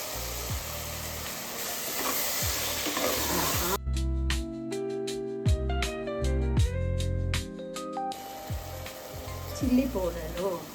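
Curd being added to fenugreek leaves and coriander leaves frying in oil, a sharp loud sizzle with steady hiss, the bubbling crackle intensifying in the middle as the pan reacts, close and continuous.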